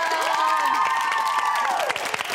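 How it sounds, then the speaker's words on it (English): A studio audience, including children's voices, lets out a loud, enthusiastic cheer on cue, rising and holding for about two seconds before breaking into scattered shouts. "now I want you to do a great big cheer"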